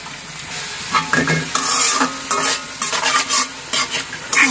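Salt, turmeric and chilli powder sizzle in hot oil for egg masala while a spoon stirs steadily, with close, loud scraping strokes repeating over a constant frying hiss.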